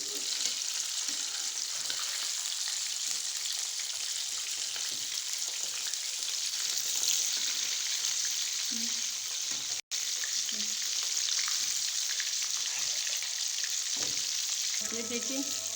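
Fish sizzles in a frying pan on its second side, a constant bright crackling hiss close by with small pops and a brief cut near the middle, and no one speaking.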